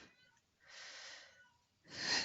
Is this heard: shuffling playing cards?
no